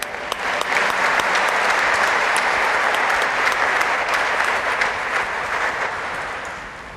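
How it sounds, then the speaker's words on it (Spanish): Sustained applause from a congregation at a Catholic mass honoring the Virgin of Itatí, a dense steady wash of clapping that holds for several seconds and then gradually tapers off. "le brindamos un fuerte aplauso también"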